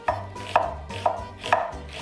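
A knife slices cucumbers thin on a cutting board for bread and butter pickles, five crisp, evenly spaced chops about half a second apart, close and clear with no talking.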